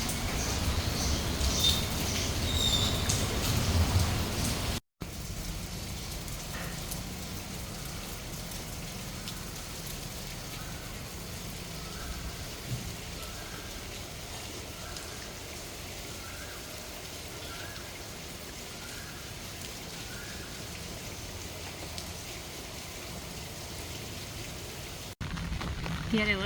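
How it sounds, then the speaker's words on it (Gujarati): Light, steady drizzle falls continuously outdoors beside a garden, a soft even patter of raindrops on surfaces with faint occasional chirps in the background. "રાતથી વરસાદ ચાલુ છે, ઝીણો ઝીણો ઝીણો ઝીણો."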